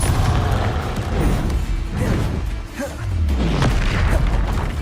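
A Confringo fire spell blasting in the wizarding action game Hogwarts Legacy, a loud booming explosion rolling into crashing impacts amid continuous combat noise.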